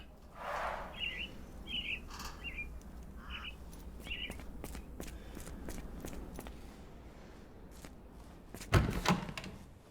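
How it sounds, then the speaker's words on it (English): Caged mynah birds in a video game give several short, clear chirps and whistles in a quiet scene, followed by a few sharp clicks and a dull thud. "Minor birds, if I'm not mistaken."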